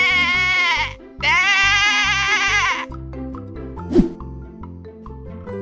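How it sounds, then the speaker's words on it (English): Two long, wavering cartoon sheep bleats close together, each about a second and a half, followed by a light plop and soft background music. "Sheep."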